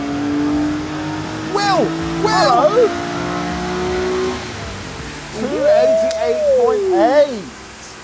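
A sports car engine revs hard on a dynamometer during a tuning run, a steady loud drone climbing in pitch while voices shout and talk over it.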